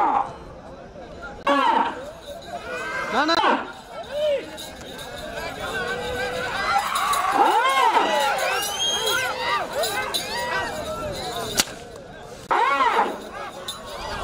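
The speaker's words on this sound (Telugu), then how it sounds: "కేకేసే జనాల్లో విజయంలో కేకలు" Crowd at a Gangamma village fair jathara in Arakatavemula shouting and cheering, with loud bursts of yelling and excited voices rising over steady chatter, swelling in the middle and again near the end.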